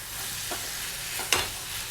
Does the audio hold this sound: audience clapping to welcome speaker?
no